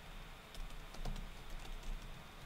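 Command being typed on a computer keyboard during a lab setup walkthrough, a quiet run of light, uneven key clicks with small pauses between bursts, heard alone.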